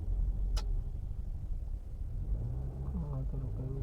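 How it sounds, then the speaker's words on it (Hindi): A car approaches on a mountain road near Chopta, a low rumbling engine heard at moderate distance that swells slightly, with a faint sharp click early on. "उधर से भी गाड़ी आ रही है"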